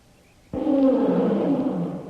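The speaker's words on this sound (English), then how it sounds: "Say, did you hear that? Tiger." A tiger lets out a sudden, loud roar that holds as one long, rough, sustained growl. The roar sounds close and stands alone, with no voices over it.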